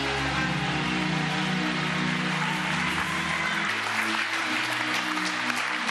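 A church congregation claps steadily and loudly in praise of God, a dense wash of applause that runs the whole time over sustained keyboard or organ chords playing underneath.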